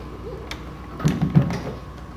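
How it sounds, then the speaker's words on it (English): A Predator pinball machine's cabinet door shuts during servicing, heard as a couple of soft close mechanical thumps and rattles over a quiet room. "Close your door."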